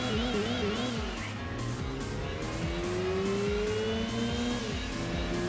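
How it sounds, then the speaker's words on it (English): The rotary engine of a Mazda RX-7 in Gran Turismo 2 revs and climbs through gears with rising whines, loud and continuous, over an underlying engine drone. "this RX-7 sounds cool"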